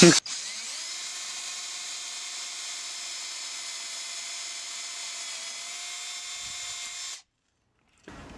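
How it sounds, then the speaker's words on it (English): A power drill bores a hole with one steady, loud whine that holds at constant pitch for about seven seconds, then stops abruptly, leaving near silence before a brief thump at the end. "make sure the drill bit is spinning the correct way"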